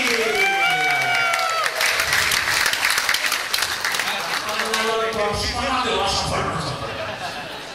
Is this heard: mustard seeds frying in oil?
no